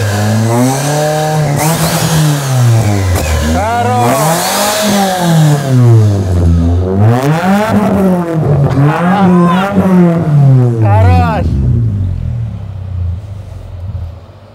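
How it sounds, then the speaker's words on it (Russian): A car engine with a turbine fitted on its muffler, revved hard at close range. The pitch rises and falls through several loud rev cycles in a row before the engine winds down and fades toward the end. "вот так вот звучит турбовая машина"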